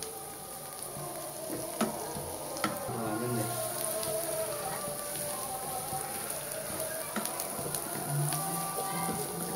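Chopped onion, ginger and garlic fry in a pan, giving a steady crackling sizzle throughout with a few sharper pops, close and even in level, with no talk over it.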